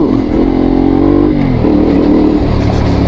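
A CFMOTO 450MT motorcycle engine revs steadily and loudly up close, its pitch rising and falling through a few throttle swells with no talking.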